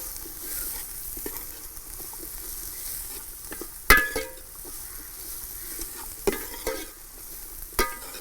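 Garlic and ginger fry in a pan for a Kerala-style prawn roast, giving a steady close sizzle with a few sharp spatula knocks and scrapes against the pan.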